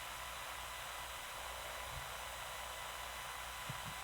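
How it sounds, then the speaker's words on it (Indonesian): An air conditioner runs inside a church service hall, giving a faint, steady broadband hiss and hum with no talk over it. "Ini AC-nya kurang matiin loh."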